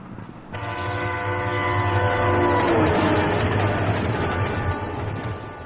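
A train rumbles steadily past at close range, its horn sounding in long sustained tones over the rolling clatter of the cars, loud throughout with no voices.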